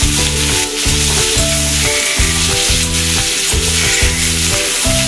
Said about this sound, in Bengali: ভালো করে ভাজা করতে হবে